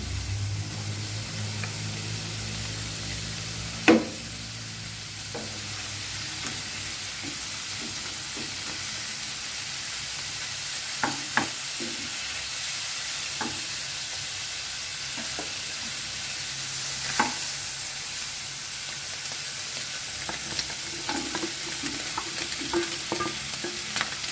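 Ham stir-fried in a pan for Thai drunken spaghetti, a continuous close sizzle with scraping stirs and occasional sharp clacks of the utensil against the pan, no talk.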